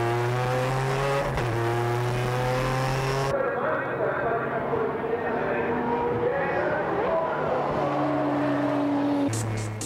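Race cars at top speed on a track, a Nissan GT-R leading the final lap through the last corner, with sustained high engine tones that shift pitch as they pass, under continuous commentary.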